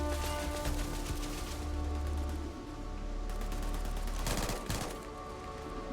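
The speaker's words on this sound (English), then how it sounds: "Who's shooting me?" Rapid bursts of gunfire ring out in a Starfield firefight, with dense crackling volleys layered over a steady low hum and mechanical clatter, loud and continuous throughout.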